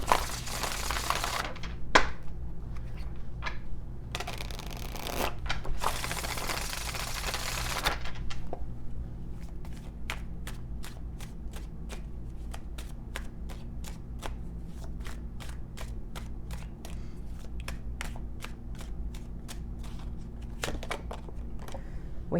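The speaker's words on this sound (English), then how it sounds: "Let me get a few oracle cards here." A deck of oracle cards is riffled and shuffled close up, with a few loud papery bursts at first, then a long run of rapid, crisp card flicks.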